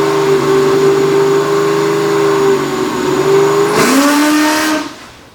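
LS V8 engine on a dyno, run as a backwards-built setup with heavy exhaust smoke, holds a loud sustained rev with a steady harmonic drone, then drops sharply off throttle and fades near the end.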